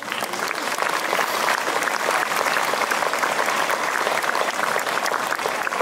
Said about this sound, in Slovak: Veľký potlesk pre nich